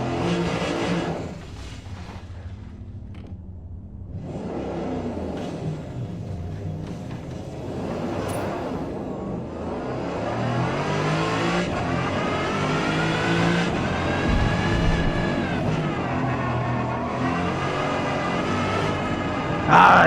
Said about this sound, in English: Ah, these cars are hard to drive.